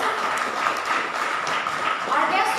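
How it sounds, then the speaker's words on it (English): An audience applauds at an inauguration event for the One Goa One Card, a steady wash of clapping filling the whole short stretch at moderate loudness. "Can we all give him a huge round of applause?"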